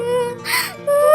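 A cartoon bird cries in a Hindi animated story, a high, wavering whimpering wail with a tonal voice, heard close and fairly loud over about a second, likely voiced by a performer.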